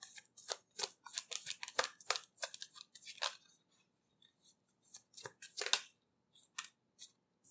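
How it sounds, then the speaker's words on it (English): Tarot cards riffled and shuffled in the hands, a run of crisp papery flicks and snaps in quick bursts, with a brief pause and then more scattered shuffling, close and fairly quiet. "Again, I shuffled."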